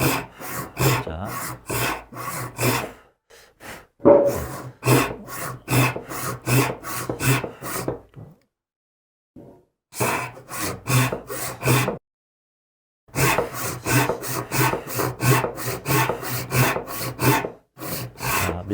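A hand saw rasps through wood in steady back-and-forth strokes, close and rhythmic, pausing twice before resuming, cutting a mitre joint for traditional Korean furniture joinery.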